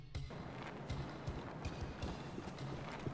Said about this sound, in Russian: Угу, шаги.